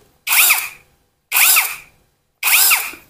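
APR AP85 Pro brushless cordless drill spins up in three short bursts, each a loud, high whining run of under a second that rises and falls in pitch, separated by brief silences.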